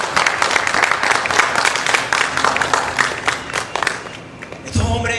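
Church congregation clapping loudly and continuously, a dense crowd of hands close by that fades near the end as a voice begins speaking.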